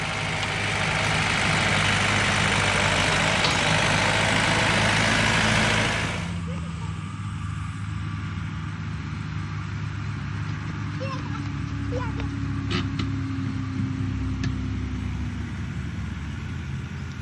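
Tractor or truck engine rumbling steadily as it pulls a trailer loaded with hay across a farm, loud and close at first, then dropping to a lower, more distant drone, with a voice talking over it.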